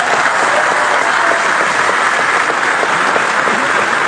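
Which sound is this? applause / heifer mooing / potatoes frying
applause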